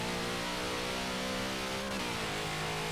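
A 2000HP drag car in Forza Motorsport 7 accelerates hard, its engine note climbing steadily in pitch with a brief dip at a gear change before rising again, loud and continuous with no talk.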